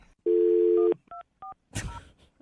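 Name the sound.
phone keypad tones while setting phone to mute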